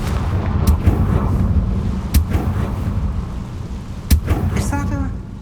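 Confringo blasting spells exploding in Hogwarts Legacy, heard as several loud, deep booms with sharp cracks spread over a rumbling game soundscape, with a short voiced sound near the end.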